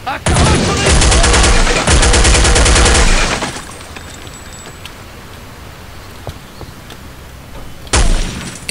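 Gunfire in Counter-Strike: Condition Zero Deleted Scenes, loud rapid automatic bursts for about three seconds, then quieter ambience with faint scattered shots, then another short loud burst.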